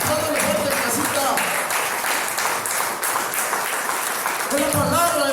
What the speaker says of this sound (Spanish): Creo que merece un aplauso.